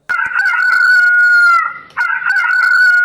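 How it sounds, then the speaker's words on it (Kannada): A rooster crows loudly and close by, two full cock-a-doodle-doo calls in quick succession, each a sustained, harmonically rich cry with a brief pause between them. "ಹುಂಜ ಕೂಗುವ ಶಬ್ದ"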